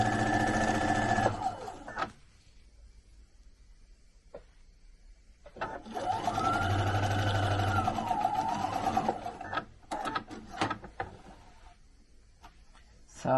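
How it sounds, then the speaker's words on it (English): A sewing machine stitches across chenille fabric in two bursts of whirring, rapid mechanical clatter separated by a quiet pause, with light handling clicks afterward. "We're going to stitch right over the chenille that's already on there"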